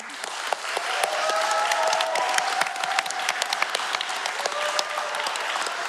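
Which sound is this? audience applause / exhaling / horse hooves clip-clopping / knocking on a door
audience applause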